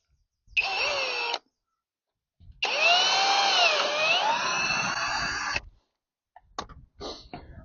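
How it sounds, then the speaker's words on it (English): A power drill boring a clearance hole for a self-tapping screw in the bodywork of an MG car, close and loud: a short burst, a pause, then a longer whining run whose pitch dips and rises, followed by a few brief taps. "we'll drill a clearance hole for the self-tapper to go in"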